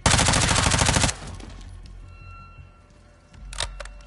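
Dense automatic gunfire from Call of Duty Modern Warfare 2, a loud rapid burst for about a second, then quieter scattered shots and a sharp crack near the end.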